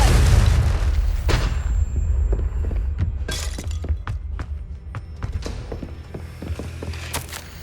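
A Confringo blasting spell goes off in Hogwarts Legacy, a heavy booming blast at the start followed by crackling, shattering debris and scattered sharp impacts that fade into sparse clicks.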